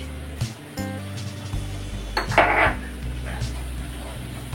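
Spoon scraping and clinking in a pan while onion and spices such as turmeric and Kashmiri chili are stirred in a home kitchen, with soft frying sizzle and a few close metal knocks.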